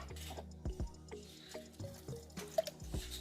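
Water poured and stirred into puff puff batter in a bowl, giving soft, wet squishing and dripping sounds with irregular spoon or spatula knocks, fairly close and quiet, with no talk.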